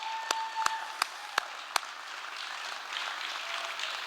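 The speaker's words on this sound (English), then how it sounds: "I just like to give Danny, Lou, and Mary another big round of applause for a wonderful set" Audience applause after a band's set at the Liberty Theatre, opening with a few sharp, distinct claps before a soft, diffuse crowd clapping fills in, fairly faint and distant.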